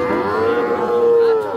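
Young Sahiwal calves at a cattle market moo loudly and close by, a single sustained low bellow lasting over a second with no talk over it.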